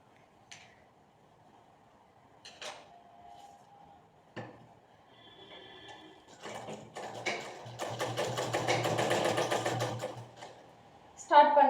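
Sewing machine stitching baby frock pieces together at a half-inch seam; scattered handling clicks lead into a steady, rapid mechanical whirr lasting a few seconds, close by, with a voice talking in the background.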